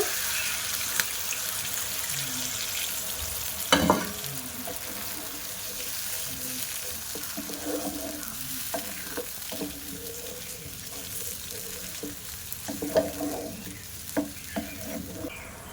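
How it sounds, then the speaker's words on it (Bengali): Milk goes into a pan of fried spice masala for a vegetarian baby potato curry (aloo dum) and gets stirred, giving soft sizzling, liquid sloshing and spoon scrapes with a few louder knocks, close and without talk. "তো মশলাটা কষানো হয়ে গেছে, এবার আমি ওর মধ্যে দুধ দিয়ে দেব।"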